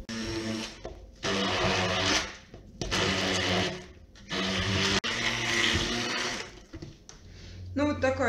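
A hand blender purées a cottage cheese cookie dough with egg and vanilla in loud whirring bursts of about a second each, split by short pauses, with a voice speaking briefly near the end.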